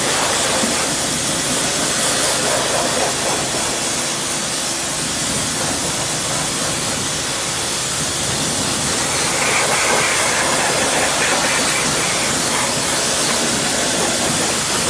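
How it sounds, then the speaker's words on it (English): A pressure washer blasts a car wheel being cleaned with wheel cleaner, producing a loud, unbroken broadband hiss that stays steady for the whole stretch with no talking. "Of course, I got to turn on the pressure washer"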